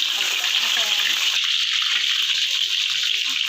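Garlic sizzles in hot cooking oil in a pan while cabbage stir-fry with instant noodles is made, a loud steady hiss that continues throughout.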